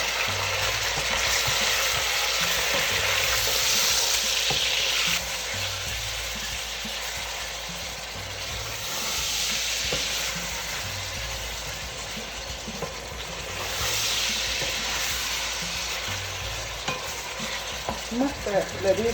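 Meat for sakhundar qorma is added to hot oil in a pot, a loud steady sizzle of frying with stirring scrapes, fading and swelling in waves, no talk over it.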